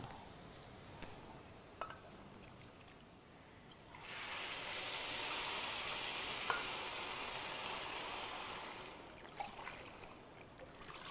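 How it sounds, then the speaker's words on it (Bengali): Quiet sizzling and sporadic popping of chicken frying for morog polao, rising into a louder, fuller hiss in the middle before settling back to faint crackles. "শুনতে পাচ্ছেন পটপট পটপট আওয়াজ হচ্ছে"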